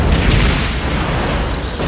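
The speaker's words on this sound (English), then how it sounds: "look at that explosion" A Klingon Bird of Prey starship exploding in a Star Trek scene, a dense, loud rumbling blast that holds steady and full through its short length without clear decay.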